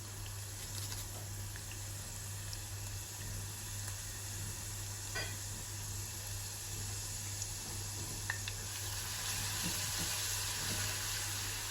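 Grated garlic frying in clarified butter makes a constant gentle sizzle with faint bubbling and occasional light pops, steady and close, with no voices.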